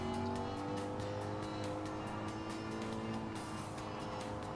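In Gran Turismo 7 career mode, a race car's engine drones steadily with sustained harmonic tones, rising and holding under a loud, dense roar of tire and road noise, continuous throughout.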